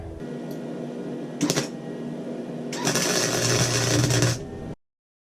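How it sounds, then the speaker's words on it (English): Custom side cover pieces for a Suzuki GS850 motorcycle are tack welded while a brick holds them in place. There is a short crackling burst, then a longer steady buzzing weld, then silence. "First I'm going to put a brick on top of it to hold everything together while I weld it."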